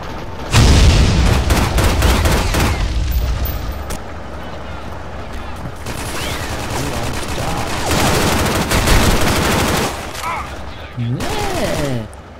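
Gunfire in the S.K.I.L.L. Special Force 2 video game: loud rapid bursts of automatic fire, close and dense, coming in several volleys with short gaps, and someone talking over parts of it.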